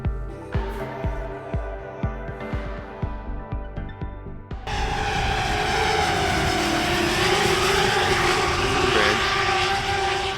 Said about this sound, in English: now you add some race cars.